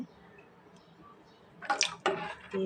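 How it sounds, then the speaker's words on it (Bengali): Vinegar-mixed water splashes and pours briefly into a pot for homemade mozzarella in a couple of short bursts after near silence. "আমি এখানে আস্তে আস্তে ভিনেগারের মিক্সড করা পানিটা ওখানে দিয়ে দিব"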